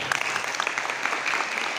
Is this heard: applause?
yes